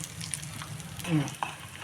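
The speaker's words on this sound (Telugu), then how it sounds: "ఇంకొంచెం వేగాలి" Spices with asafoetida crackle and sizzle in hot oil, a steady close frying hiss with a brief stirring scrape.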